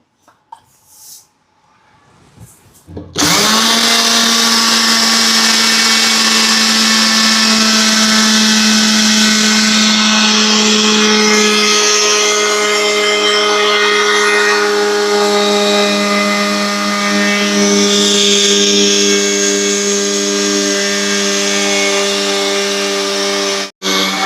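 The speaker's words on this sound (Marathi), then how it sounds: "हे ब्लेंडरचा जार घेतलेला आहे आणि त्याच्यामध्ये आणि आता आपण ही फिरवून घेऊया." A kitchen blender grinds barnyard millet (bhagar) into fine flour, starting after about three seconds of quiet and then running loud and steady with a high motor whine, alone without talk.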